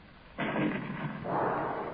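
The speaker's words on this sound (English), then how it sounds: "there sounds again the distant thunder of the destructo cannon" A distant destructo cannon booms as a radio drama sound effect, a broad rumbling blast that swells in suddenly and rolls on, surging again toward the end, with no voices over it.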